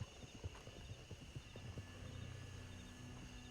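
Horses clip-clop along in a Red Dead Redemption 2 roleplay game, a string of irregular hoof knocks at moderate distance, with a steady low background hum and no speech.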